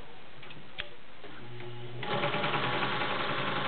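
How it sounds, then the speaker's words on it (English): A vintage heavy-duty Pfaff 130 sewing machine stitches delicate chiffon. A steady, fairly loud mechanical whir builds about two seconds in and carries a regular ticking stitch rhythm, with no talking. "we're going to do chiffon. Very, very delicate."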